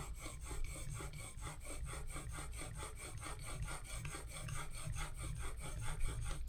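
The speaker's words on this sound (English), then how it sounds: "So we're going to go ahead and use this to create a secondary bevel on here." Mortising chisel honed on a secondary bevel in a jig, giving steady rhythmic rasping strokes back and forth, close and moderately loud, with no talk.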